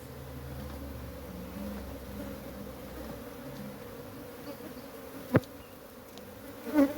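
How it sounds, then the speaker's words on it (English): Honey bees hum softly around an opened hobby hive, a low continuous drone close by, broken by a sharp tap and a brief scrape of equipment near the end. "Trying to move the bees away so that I can put the queen excluder."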